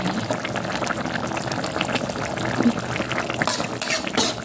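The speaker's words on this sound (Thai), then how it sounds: "ต้มยอดมะพร้าวไว้ก่อนนะคะ" Young coconut shoots simmer in a pot of water before going into a chicken curry, giving a close, continuous bubbling and faint liquid churning with a few brighter splashes near the end.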